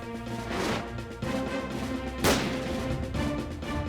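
Gunfire and crashing blasts from a television action scene fill a room, dense and loud throughout with a sharper burst near the middle.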